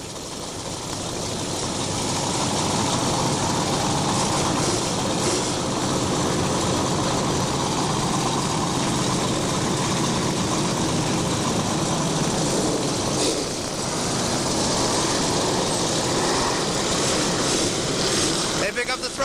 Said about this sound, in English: They pick up the throttle through turns 3 and 4.